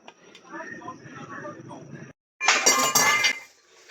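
Payesh, a milk rice pudding, stirred in a pot: a low murmuring voice first, then a short pause, then bright spoon clinks and scrapes against the pot, close and fairly loud.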